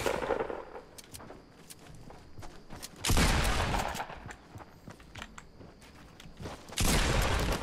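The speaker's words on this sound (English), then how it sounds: "Okay, I'm getting shot at." Gunfire in a Fortnite match: two loud, dense bursts of rapid shots, one around the middle and one near the end, with scattered lighter pops and clicks of game action between them.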